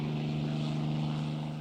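RAF propeller-driven reconnaissance planes drone steadily overhead, a continuous loud engine hum with a strong low tone and no pauses.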